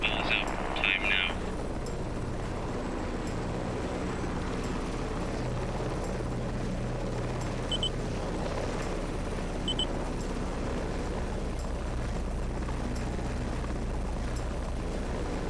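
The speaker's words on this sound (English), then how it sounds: "Let's switch helicopters." A steady helicopter rotor and engine drone from the Heliborne combat flight game runs throughout, loud and continuous, with brief higher beeps and clicks over it and talk on top.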